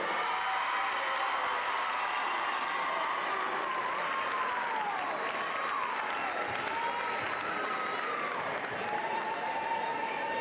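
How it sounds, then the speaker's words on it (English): A basketball crowd at a boys' district championship game applauds the MVP and all-tournament team, a dense, continuous wash of clapping from many hands in a gym, with a voice and gliding squeaks or whistles running faintly through it. "Let's hear a big round of applause for all of our MVP and our all-tournament team"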